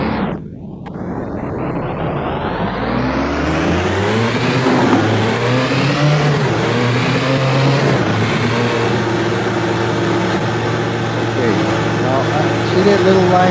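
Loud car engine revving up close, the pitch climbing and settling in a throaty drone, with a voice speaking over it.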